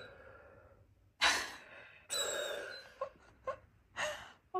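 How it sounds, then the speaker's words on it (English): Husky dog breathing heavily close by, a few loud breathy huffs and sighs separated by quiet pauses, with short snorting puffs in between. "What's all that heavy breathing about?"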